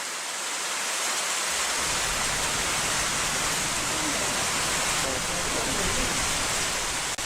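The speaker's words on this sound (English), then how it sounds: "The murmur of a river caught the group's attention" Steady broadband rush of flowing river water, a continuous loud wash like a stream or small waterfall nearby in a forest teeming with insects, constant throughout with no break.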